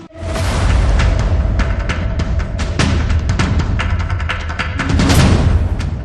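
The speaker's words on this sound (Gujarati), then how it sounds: "કાન ફાડી નાખતો પ્રચંડ ધડાકો" A huge explosion at a firecracker factory produces a loud, sustained roar of rumbling blasts and crackling debris lasting several seconds, with no voices.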